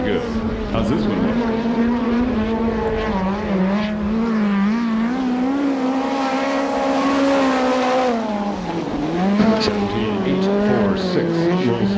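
A midget race car engine on the Perris dirt oval drones loudly and steadily, its pitch sliding up and down as it laps, with a commentator talking over it.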